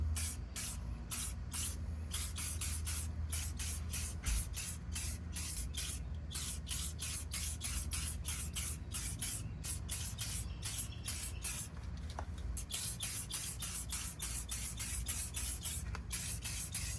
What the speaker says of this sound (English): Let's go ahead and apply the hot shine coating.